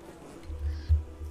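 Bees buzz in the video game Don't Starve, a low droning hum that swells midway with one brief louder peak, heard alone without talk.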